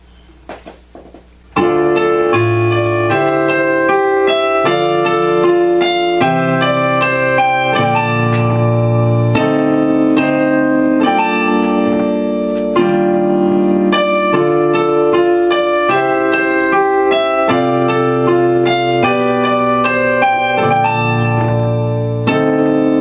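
A piano plays the intro of a song, sustained chords and melody notes ringing out clearly and steadily after a brief quiet moment at the start, with no voices.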